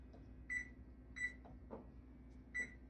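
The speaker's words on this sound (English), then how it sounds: "Setting my kitchen timer for" Short electronic beeps from a kitchen timer being set while baking a cake in a 12 V rice cooker, three or four separate chirps spaced about a second apart over a low steady hum.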